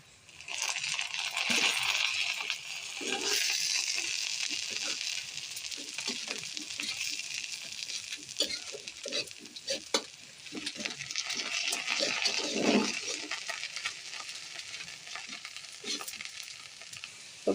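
Pointed gourd (potol) frying in a pan, a steady loud sizzle with scattered clicks and scrapes of stirring, no voices.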